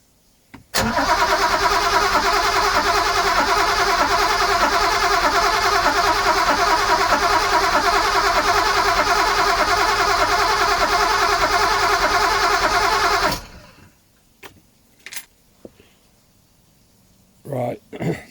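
An old 1980s powerboat engine cranks at zero throttle on its first start attempt, a loud, continuous churning for about twelve seconds that never catches. It cuts off abruptly, followed by a few faint clunks and knocks.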